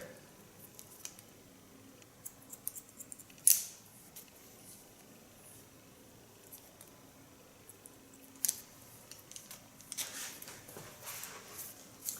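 Scissors snipping through hair during a salon cut and color, sparse quiet clicks and a few sharper snips scattered over a soft background, close to the ear.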